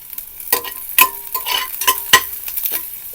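Onions fry in a pan with salt and turmeric while a spoon stirs them, giving a close sizzle broken by quick scraping clinks and taps in an irregular rhythm.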